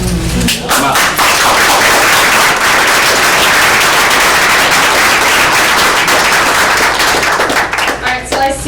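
Applause at a community meeting, loud close-up clapping from a crowd that swells quickly and holds steady before thinning out, with a few sharp individual claps and faint voices at the end.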